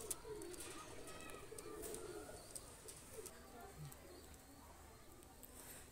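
Omani teddy pigeons cooing, soft and low, repeating over a steady background hum with faint chirps mixed in.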